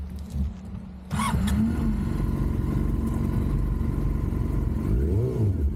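A Yamaha YZF R6 (Gen2) sport bike engine on a tight, twisty mountain road: quiet at first, then a steady loud drone kicks in and holds, with pitch rising and falling near the end as revs change, close to the microphone.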